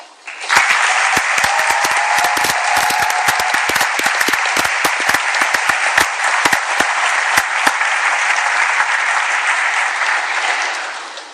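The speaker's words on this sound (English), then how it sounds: "We owe you an enormous round of applause." Sustained applause from a graduation audience after a speech, loud and dense with sharp individual claps standing out, beginning abruptly, holding steady for about ten seconds, then tapering at the end.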